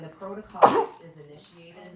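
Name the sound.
sneeze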